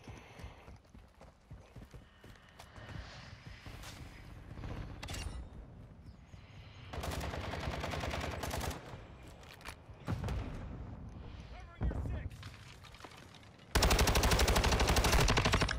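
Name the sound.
gunfire in video game Modern Warfare 2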